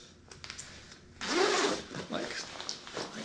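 A drysuit zipper on an Ocean Rodeo Soul drysuit is pulled closed in one long, close rasping zip lasting over a second, followed by fainter rubbing and fabric handling.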